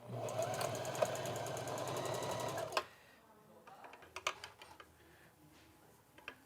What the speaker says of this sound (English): we're gonna sew our sleeve into the armhole now